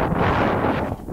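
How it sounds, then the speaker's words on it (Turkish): Strong wind roars and buffets the microphone in a dense, continuous rush, loud and close, with no other sounds standing out. "Rüzgarın şiddeti arttı."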